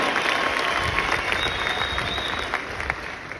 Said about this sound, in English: put together a round of applause